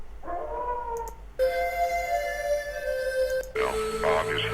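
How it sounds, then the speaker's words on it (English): A dog howls in a played recording, long wavering tones rising and sliding over a steady background, with a voice briefly heard partway. "Obviously a dog."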